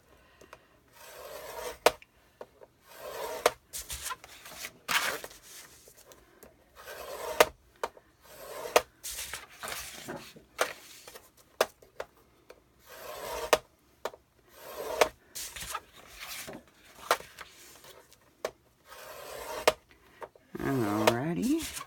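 Paper pieces are scored at half-inch intervals on a scoreboard, giving repeated short scraping strokes and taps in an irregular rhythm, close and fairly quiet.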